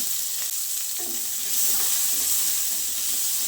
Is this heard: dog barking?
no